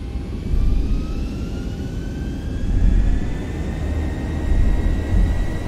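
Boeing 737 jet engines in X-Plane 11 spool up to takeoff power: a loud, low rumbling roar with whining tones rising steadily in pitch, pulsing slightly in strength, with no talking.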